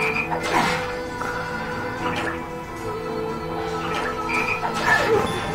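Frog enemy croaking in the role-playing game Shadow Hearts, a series of loud close croaks and gurgling calls repeated through the stretch over game battle sounds, with no talking.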